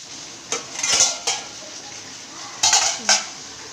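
A metal lid clinks and scrapes onto a cooking pan in a few short clatters spread over a few seconds, with faint sizzling from the stove beneath.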